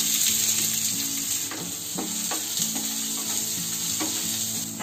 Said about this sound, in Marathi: आता इथे बघा आपला कांदा फ्राय होतोय